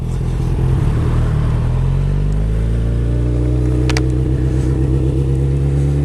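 A motorcycle with a full decat exhaust system idles loudly and then revs, its exhaust giving a deep, rumbling roar close by.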